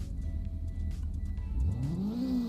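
A 1998 Mizushima Syzygy (Eclipse) in the Roblox game Greenville idles with a low engine hum, then revs up sharply, its pitch sweeping upward in one close, loud rise.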